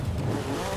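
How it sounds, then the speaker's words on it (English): Car engine held at full throttle in Forza Horizon 5, a Vocho, a steady low drone through a brief stretch with no pauses. "We're going full throttle."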